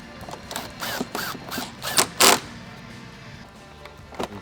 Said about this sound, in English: Installing the grill, sprayed some silicone grease on it